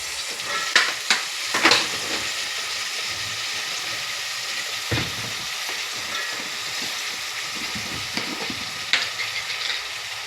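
Vegetables sizzle steadily in a hot pan for vaghareli khichdi, with a spoon scraping and stirring in several sharp bursts over the constant frying hiss.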